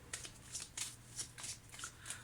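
Tarot cards being gathered and covered on a table, a series of crisp papery swipes and shuffling flicks in an irregular rhythm, close and quiet.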